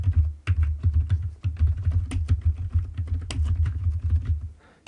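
Rapid typing on a computer keyboard while entering text into an Excel worksheet, with dense, irregular clicking keystrokes that run steadily throughout, close and clear, with no voices.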